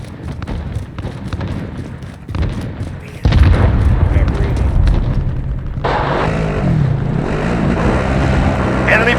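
A cruise missile strike erupts in the video game Call of Duty Modern Warfare, a loud booming blast that rolls into a long, heavy rumble, following scattered gunfire and game voice chatter.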